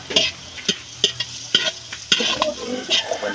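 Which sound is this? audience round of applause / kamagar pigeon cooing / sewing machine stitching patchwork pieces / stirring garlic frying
stirring garlic frying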